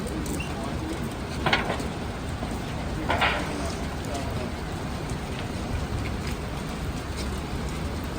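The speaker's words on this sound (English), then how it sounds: "It's pouring." Heavy rain pours down outdoors at a New York City fire scene with fire crews working, a dense, continuous patter of drops on surfaces that holds steady throughout, with a few faint louder splashes mixed in.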